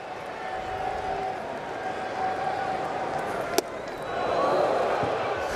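Baseball stadium crowd giving a sustained ovation to a 19-year-old rookie during an Orioles–Pirates game, a broad roar of cheering and applause that swells near the end, with a sharp bang partway through.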